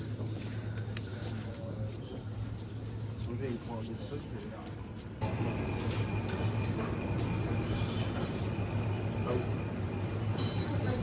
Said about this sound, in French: On est coincé dans le RER, on est assis par terre.